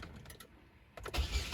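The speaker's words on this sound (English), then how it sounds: "I'm gonna go ahead and start the vehicle up." A Saturn Vue with a flashing check engine light being started: brief key clicks, then the engine cranks and catches with a low rumble that builds at the end, close by.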